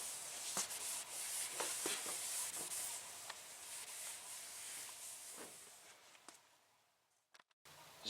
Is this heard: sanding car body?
yes